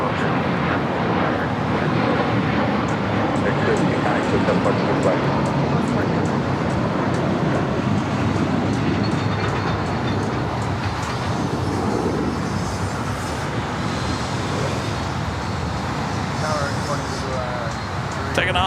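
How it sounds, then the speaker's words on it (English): American Airlines A321 jet engines roaring on takeoff at LAX, a loud, steady broadband rumble holding throughout, with a radio voice talking over it. "Taking off there, that was American Airlines Flight 32 heading to JFK, and then A321."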